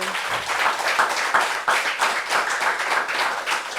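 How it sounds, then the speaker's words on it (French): Group applause at a meeting, brisk close clapping from a small crowd, steady and lively for a few seconds with no voices over it. "Franchement, ça s'applaudit."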